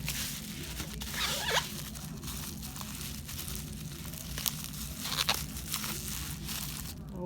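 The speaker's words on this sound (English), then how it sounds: "I had to get my scissors and kind of cut away at this a little bit." Crinkling and crackling of plastic wrap with scattered sharp snips and tearing sounds, close up, no voices.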